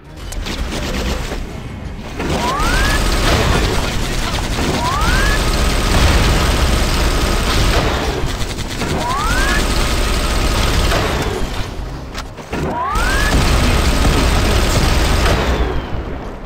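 Sustained game gunfire from Terminator Genisys: Guardian on iOS, a loud, dense stream of shots running almost the whole way with brief gaps, mixed with rising electronic whistles and continuous battle noise.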